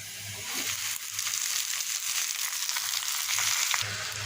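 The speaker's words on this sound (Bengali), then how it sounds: "এদিকে পেঁয়াজ আর রসুন আর কাঁচামরিচ একটা দিয়ে একটু ভেজে নিলাম এখন শাকগুলোকে আমি দিয়ে দেবো" Onion, garlic and green chili fry in a pan ahead of Malabar spinach leaves, making a continuous hissing sizzle with light stirring noises throughout, and no speech.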